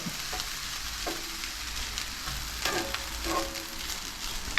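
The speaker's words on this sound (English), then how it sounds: "Those edamame is frozen. So I'm gonna still stir fry it for a little bit, just to dry it up." Frozen edamame stir-fries with fried rice in a hot pan, giving a soft, low sizzle under scattered scrapes and taps of a spatula against the metal. No one speaks.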